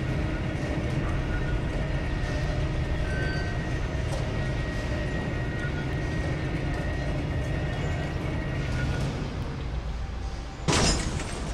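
A military train in the video game Metro 2033 gives off a steady, loud low rumble and mechanical drone for several seconds, ending in a sharp metallic clank.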